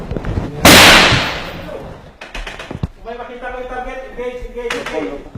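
Gunfire in an urban battle against ISIS in Marawi: one sharp, loud blast, then a cluster of quicker cracks and a later shot, with voices talking between the reports.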